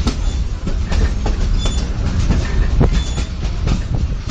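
A passenger train rolls along the rails with a steady rumble, rhythmic clickety-clack of the wheels and occasional faint squeals, heard up close from inside the cars without talk.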